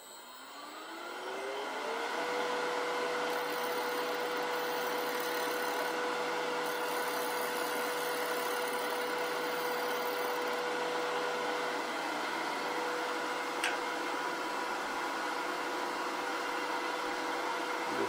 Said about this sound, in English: I'm going to shear scrape that.